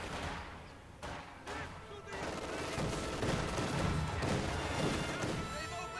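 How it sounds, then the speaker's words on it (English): Mortar and artillery explosions in the video game Company of Heroes 2, a rapid run of sharp blasts and gunfire crackle, loud and close, with dense impacts building into a continuous barrage. "So he's just kind of sitting here blowing up his mortars."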